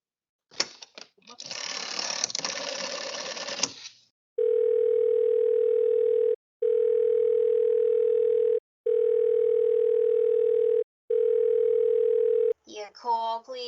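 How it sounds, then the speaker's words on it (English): Telephone busy signal on a line to a Murray Hill number, four even, steady tone bursts separated by short gaps, preceded by dialing noise and followed by a voice speaking. "I've been dialing Murray Hill 70093 now for the last 3/4 of an hour, and the line is always busy"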